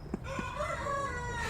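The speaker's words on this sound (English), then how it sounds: "Shut up, rooster." A rooster crows once, fairly near, in a drawn-out call that rises and then trails off, with a couple of brief knocks just before it and no talk.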